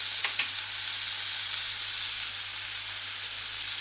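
Sirloin steak sears hard in a smoking hot pan. The sizzle is loud, even and continuous, close up, with a light tap near the start and no voices.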